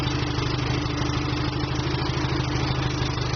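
A home-made 4x4 mini tractor's engine runs at a steady idle, a close, loud, evenly pulsing chug with mechanical clatter and no pauses, alone throughout.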